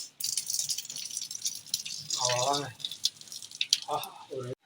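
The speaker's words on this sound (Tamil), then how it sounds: "இப்போ நம்ம இந்த தண்ணியை வந்து வடிச்சிடலாம்" Hot water drains off boiled papaya pieces, a brisk metallic rattling and dripping splash of liquid pouring from a pot, close up, with a voice speaking briefly twice over it.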